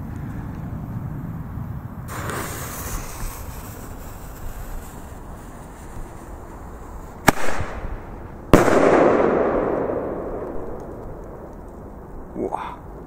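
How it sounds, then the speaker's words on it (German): Flashbang firecracker going off outdoors at New Year's, two sharp loud bangs followed by a rumbling echo, with earlier softer cracks and a voice talking over the background noise. "Und den Flashbang von Nico jetzt."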